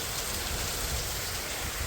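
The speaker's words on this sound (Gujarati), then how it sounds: "વરસાદ ચાલુ થઈ ગયો।" Rain pours outdoors during a monsoon shower while buffaloes graze, a dense, constant roar of drops hitting the ground and surfaces, close and loud with no voices.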